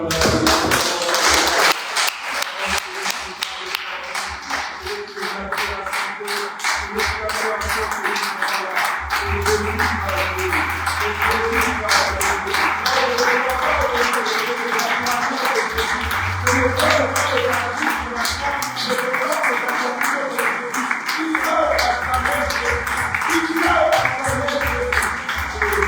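A church congregation applauding during a service, steady rapid clapping that goes on throughout, with voices and a low musical hum mixed in.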